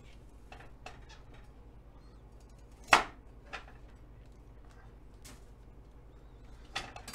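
A kitchen knife slices once, crisply and close, through the oxidized stem end of an artichoke, with a few faint clicks and taps before and after in a quiet room.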